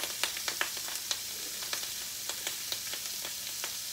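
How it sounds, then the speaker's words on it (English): Jambalaya boils on high heat in a pot on the stove, a steady close bubbling hiss broken by frequent small pops and crackles. "I'm going to turn it down to about medium because I've got it up to a boil now"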